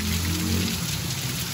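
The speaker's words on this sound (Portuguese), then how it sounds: "eu tenho fé em Deus que vai continuar chovendo muito aqui" Steady rain falling on a street in Quixeramobim, Ceará, a continuous dense hiss of drops on hard surfaces filling the whole stretch, close and even with no voices.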